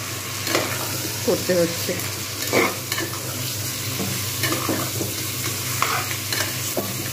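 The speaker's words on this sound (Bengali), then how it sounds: "আমি এখন কিন্তু এর মধ্যে এর সঙ্গে মাটনটা ভাজবো, পেঁয়াজের সঙ্গেই ভাজবো।" Mutton pieces frying with onions in a pan for a Bengali mutton curry: steady sizzle with intermittent scraping stirs, close and moderately loud, with a brief spoken remark over it.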